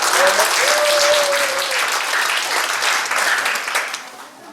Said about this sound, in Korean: 감사하면 박수 한번 칩시다.